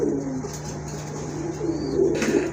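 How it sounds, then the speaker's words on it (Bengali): Red-checker racing pigeons coo in a loft, a soft steady murmur of throaty calls with a faint rustle of wings in the background. "আরেক জোড়া কবুতর দেখেন খুবই সুন্দর কালারের একদম রেড চেক"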